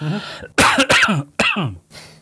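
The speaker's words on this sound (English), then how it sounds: "I'm just going to get into a bit of a coughing fit here" A bout of harsh coughing and throat clearing, several bursts close to the mic, separated by brief pauses.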